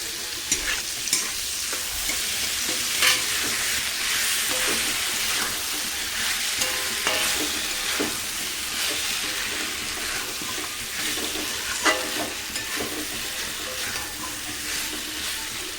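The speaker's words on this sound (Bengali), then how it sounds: "আর এদিকে পটলটা ভাজা হচ্ছে।" Pointed gourd (potol) fries in a pan beside already fried potato, giving a loud, continuous sizzle broken by repeated scraping stirs of the spatula, with no talking.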